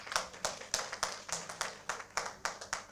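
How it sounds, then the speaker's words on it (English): Hands clapping at an NIPR meetup, a small audience giving steady, distinct claps in a loose rhythm, fairly close and moderately loud, with no voices over it. "We should give our president and the entire NIPR a big round of applause for this."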